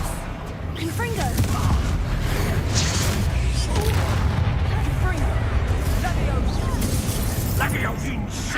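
Confringo fire blast spells explode in Hogwarts Legacy, a dense run of booming blasts and crackling impacts layered over game sound effects, with a voice talking loudly throughout.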